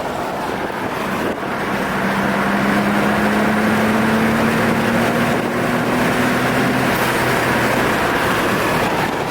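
Nissan Skyline R32 GT-R pulling hard in fourth gear at around 100 km/h, a steady loud engine drone with a rising tone under constant road and wind roar, no talking.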